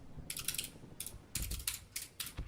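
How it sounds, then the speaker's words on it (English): An old, loud computer keyboard is typed on in short bursts of clicky, clacking keystrokes, close and crisp, separated by brief pauses. "I've unretired my old keyboard because it's nice and loud."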